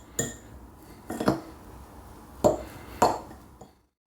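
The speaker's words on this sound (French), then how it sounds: "avec ma fourchette, je mélange" A fork scraping and clinking in a bowl while mixing crushed biscuits into cheesecake mixture for a white Kinder Bueno cheesecake: four separate close taps and scrapes spread over a few seconds, then quiet.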